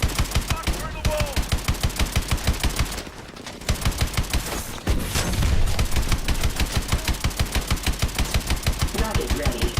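Rapid automatic fire from a mech's main gun in Call of Duty: Advanced Warfare, a loud, steady stream of closely spaced shots with a brief pause midway before the firing resumes, under battle noise.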